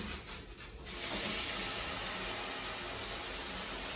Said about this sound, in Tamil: இப்போ இதில் ஆஃப் பண்ணிவிட்டு இந்த தண்ணியை இதில் ஊற்றிடுறேன்